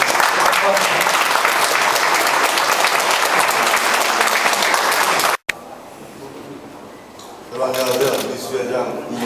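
Audience at a Dokdo photo exhibition event applauds loudly and steadily for several seconds, then the clapping cuts off abruptly, followed by quieter room noise and then a voice speaking.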